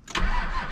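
A car engine cranks and catches, starting up without its sub tank and settling into a steady, close running note that stays loud through the rest of the moment.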